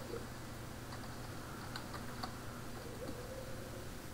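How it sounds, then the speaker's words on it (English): Typing on a computer keyboard while searching in the Ubuntu Software Center, faint scattered key clicks under a steady background hum. "in the search box I'm going to type Docky"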